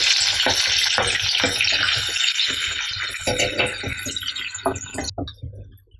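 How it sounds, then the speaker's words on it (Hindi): Sliced onion frying in oil and desi ghee as a tadka for nalli nihari, giving a dense, steady sizzle with crackling pops, loud and close, fading slightly toward the end. "प्याज को हमें गोल्डन फ्राई करना है एकदम।"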